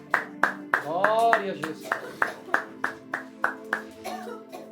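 A church congregation claps in a slow, even rhythm of about a dozen sharp claps, with a voice speaking and singing over the first beats before the claps continue alone.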